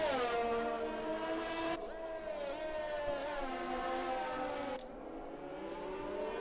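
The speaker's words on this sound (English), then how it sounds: "So we can see the first cars out on track at the moment." Race cars in a sim racing game at the Monaco GP, engines whining and rising in pitch as they pass, one car fading out, then another swelling in, then the sound thinning abruptly near the end.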